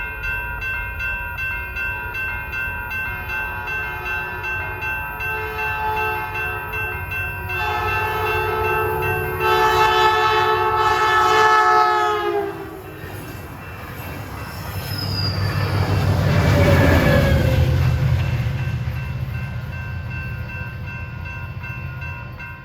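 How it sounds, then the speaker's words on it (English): Caltrain limited-stop train 515 barrels past a trackside spot in San Jose at twilight, sounding a long, loud horn as it approaches, then roaring by with rising wheel and engine rumble that settles afterward. "We got Caltrain limited stop train 515 will be barreling through San Jose to San Francisco"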